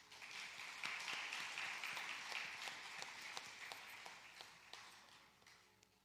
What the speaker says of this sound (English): So just a round of applause for her, please